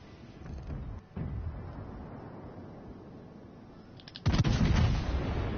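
Naval guns firing AP shells in a naval combat game, deep booming salvos with a muffled thud early on and a loud rumbling blast near the end.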